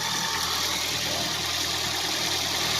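A Ford EcoSport's engine idles with a steady, even hum and a low drone, close by and unbroken, with no voices over it.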